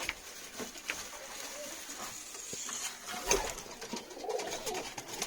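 Pigeons coo softly and low, a faint rumbling call repeating against a quiet background with light rustling and a brief tap near the middle.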